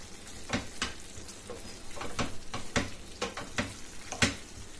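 Spoon stirring a frying curry of urad dal and fenugreek leaves seasoned with chilli powder, salt and coriander powder, giving repeated scraping strokes over a steady sizzle at close range.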